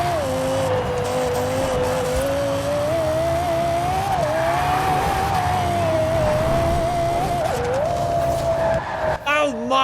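A Lexus LFA's V10 engine wails at high revs in Forza Horizon 4, holding a loud, wavering whine with tire skid squealing under it, then dropping off sharply with a few bumps just before the end.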